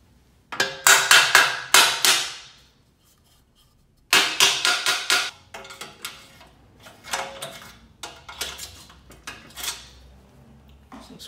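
Sharp metallic taps of a hammer on a screwdriver used as a drift, fitting a hinge part on a Black & Decker Workmate, come in quick clustered bursts of four to six strikes with short pauses, close and crisp.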